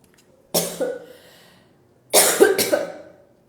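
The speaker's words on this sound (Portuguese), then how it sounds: "eu vou tossir um pouquinho." A woman with a dry throat and rhinitis coughs twice, close and loud, each a sharp burst trailing off, with a pause between and quiet around them.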